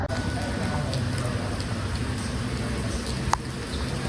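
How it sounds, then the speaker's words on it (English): Rain falls steadily on a rainy day at an amusement park, a broad continuous hiss with a faint click near the end. "It's raining."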